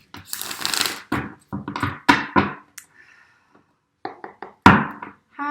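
Tarot cards are shuffled loudly in several quick bursts of riffling and tapping, separated by short pauses.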